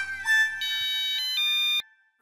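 A mobile phone rings loudly and close by with a bright electronic melody of sustained tones for nearly two seconds, then cuts off abruptly.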